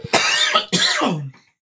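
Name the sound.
cough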